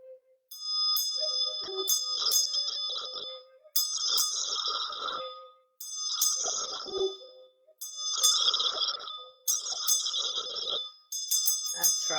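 A bell rung repeatedly during a chakra meditation, six bright ringing strikes spaced about two seconds apart, each sustaining a clear metallic tone with some rattling, close and fairly loud.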